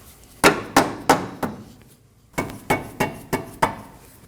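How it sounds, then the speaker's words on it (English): A rubber mallet taps a steering knuckle into place on a 2020 Toyota Corolla front suspension: two quick bursts of sharp, evenly spaced knocks, four then six, with a short pause between, close and distinct. "you could tap it in using a rubber mallet"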